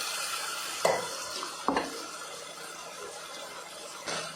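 Tomato and onion being stirred in a pan with turmeric and asafoetida, a steady sizzle broken by a few sharp spoon scrapes against the metal, close and fairly quiet.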